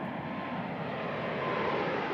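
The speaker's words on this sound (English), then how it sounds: "Next, they put this new jet through the flutter test." A Boeing 747-8 jet in flight during a flutter test gives off a steady, broad roar of engine and airflow noise, constant and loud throughout.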